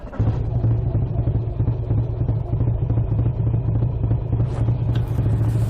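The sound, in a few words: motorcycle setting off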